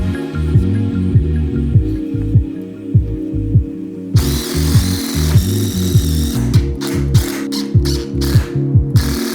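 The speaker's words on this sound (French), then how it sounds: "je vais mettre ma planche au-dessus, puis je vais les visser directement dans ceux-là" A power drill drives screws to join wooden planks, a rapid rhythmic ratcheting whir repeating in short close bursts, loud and steady throughout with no voices.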